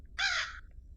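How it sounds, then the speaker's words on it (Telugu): A single crow caw sounds in the Granny horror video game. It is one short, harsh call, close and clear, against near silence. "ఇది కాకి"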